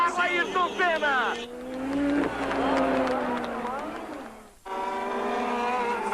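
Turbo-era Formula 1 cars of Ayrton Senna and Nigel Mansell roar down a straight, rising and falling engine whines sweeping past close by, with excited race commentary layered over the engines.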